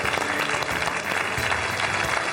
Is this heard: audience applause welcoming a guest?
yes